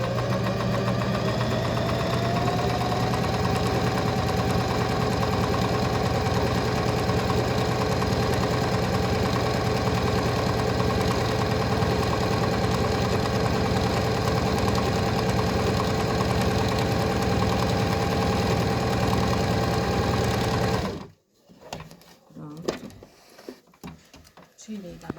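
A sewing machine runs a quarter-inch patchwork seam for a quilt, a loud continuous motor whir with rapid needle clatter for about twenty seconds, then stopping abruptly into quiet handling noises.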